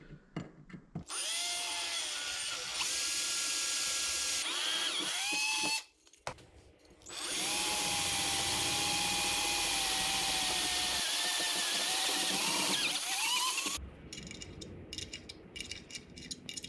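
A power drill whirs close up in two long runs into a speaker resting on a small piece of wood, with a brief stop between, its pitch shifting as it bites, followed by rattling handling noise.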